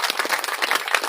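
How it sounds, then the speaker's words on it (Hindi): Loud, steady crowd applause rolls through a tent at an International Women's Day women's gathering, continuous and close throughout. "एक बार जोरदार तालियों से उनका भी स्वागत करें।"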